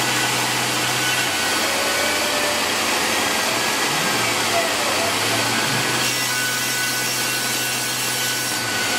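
A CNC milling machine runs a fine milling cycle while machining for an Alvis cylinder head gasket job, giving a continuous dense hiss and whir at steady loudness with faint shifting tones and no clear voices.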